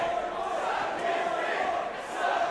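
A wrestling crowd at a Juggalo Championship Wrestling event in South Padre Island yells and shouts in a continuous, moderately loud roar with scattered voices standing out.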